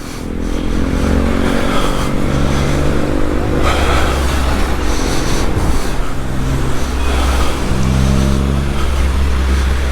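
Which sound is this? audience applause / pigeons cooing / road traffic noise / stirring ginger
road traffic noise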